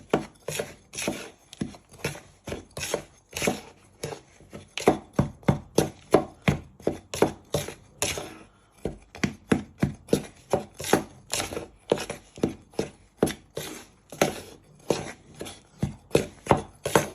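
A knife works cocoa powder and baking powder into self-raising flour and sugar in a bowl for a rocky road cake, producing a steady run of short, close scraping taps and rubs in quick rhythm, with a brief pause midway.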